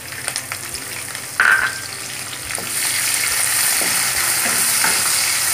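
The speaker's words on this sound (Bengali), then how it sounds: "পেঁয়াজটা একটু ব্রাউন কালার করে ভাজতে হবে।" Chopped onions and whole garam masala spices fry in oil for a Bengali chicken roast, with a steady close sizzle broken by occasional spatula scrapes and stirring taps. The frying grows a little louder partway through, and nobody speaks.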